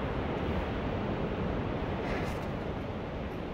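Moving water in a glacial landscape churns in a dense, steady roar, loud and continuous like crashing surf, with wind rushing across the microphone and no voices.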